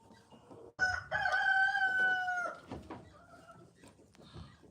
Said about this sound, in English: Paige did get rid of all of her chickens. They're all here now.